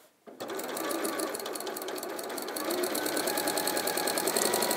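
After a brief hush, a sewing machine starts stitching fabric with a fast, even mechanical chatter. It is close and continuous to the end, with no one talking.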